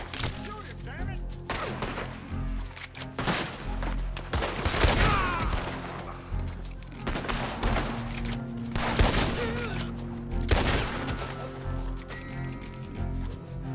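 Rapid bursts of gunfire in a video game, loud repeated shots clustered in volleys with brief gaps, mixed with game sound effects and occasional voices.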